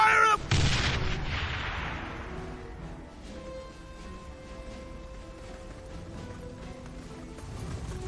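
Artillery fire in a Warhammer: Mark of Chaos cutscene: one loud close boom at the start with a long decaying rumble, then a quieter battlefield bed with distant clatter.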